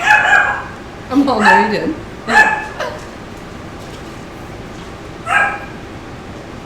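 A dog gives several short barks and yips in bursts, close by, mixed with a person talking over and between them.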